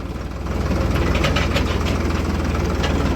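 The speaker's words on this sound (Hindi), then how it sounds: "जहाँ ट्रैक्टर चल रहा है" Ford tractor engine running steadily in a field, a loud, low continuous rumble with a rhythmic chug that swells in after a brief quieter start and holds close and even throughout, with no talk.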